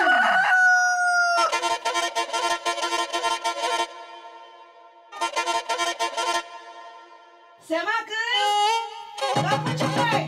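Several loud rooster crows ring out one after another, close by, with clucking fowl in between.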